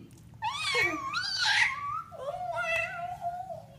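A voice imitates a cat, drawing out two wavering meows, the second lower and longer, close and fairly loud.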